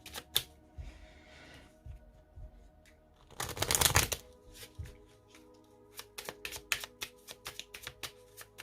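Tarot cards shuffled by hand for a reading, with quick riffling bursts, one longer dense flutter in the middle and scattered card snaps and taps, close and with no talking.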